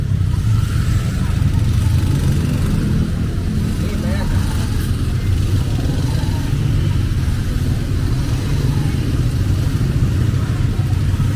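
Heavy street traffic in Angeles City, with cars and motorcycles, makes a continuous dense engine roar and rumble close by, steady throughout, with engines revving within the mass of noise.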